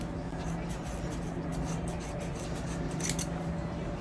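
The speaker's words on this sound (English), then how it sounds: "I think I'm just gonna cut them all first in the back, and then I'll start taking them out." Scissors cut off braids at the back of the head, giving a series of soft snipping and rubbing sounds over a steady background hiss.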